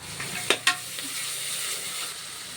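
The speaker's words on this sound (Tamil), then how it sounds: "வெங்காயம் இந்த அளவுக்கு வதங்கினதுக்கப்புறம் இஞ்சி பூண்டு பேஸ்ட் ஆட் பண்ணிக்கோங்க" Onions with ginger-garlic paste sauté in a pan for ghee rice, a close steady sizzle broken by two sharp spoon scrapes early on.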